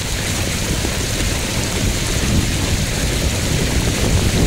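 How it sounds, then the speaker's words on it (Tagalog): Heavy rain pours down in a dense, steady roar, unbroken and close, with no voices. "tumitirada na naman yung malakas na ulan"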